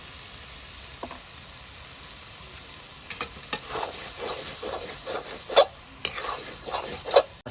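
Lote fish cutlet mixture is stirred and sautéed in a pan, giving a steady soft sizzle. A spoon scrapes against the pan in several short, rough strokes, close and fairly quiet, with no talk.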